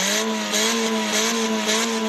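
Mitsubishi Evo X engine holding a loud, steady high rev close by, with faint crackles that may be backfire pops.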